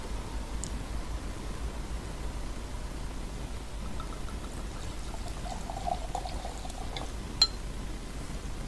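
Alcohol is poured out of a bottle off camera as a steady, continuous stream of liquid lasting several seconds, with faint clinks near the end.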